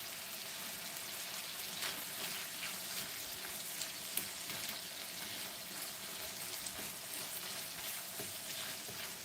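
Sausage frying in a covered pan gives a steady, soft sizzle with occasional faint pops and clicks, with no talking over it.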